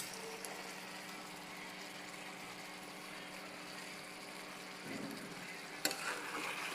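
Chicken and spinach fry in oil in a pan for a palak chicken dish, giving a steady, soft sizzle that runs throughout, with a brief clatter near the end.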